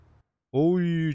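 The Ocelot Jugular sports car in GTA 5 revs up after a moment of silence, a loud, rising engine note with strong harmonics held to the end.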